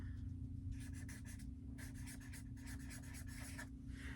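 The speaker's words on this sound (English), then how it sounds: "I'm not even writing words. I'm just scribbling." Felt markers scribble on paper in short, rhythmic bursts of quick strokes with brief pauses between them. The scratching is very faint and close.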